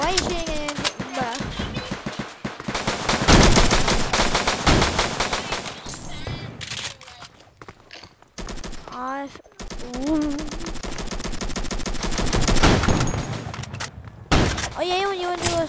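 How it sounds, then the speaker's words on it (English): Rapid bursts of video game gunfire in Flag Wars crackle and rattle in dense volleys with short gaps, loud and close, while a voice talks over parts of the action. "Why you shooting at me, kid?"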